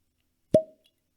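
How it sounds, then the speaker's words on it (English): A cork popping out of a whiskey bottle gives one crisp, close hollow pop with a short ringing tail, isolated in silence. "Cork pop."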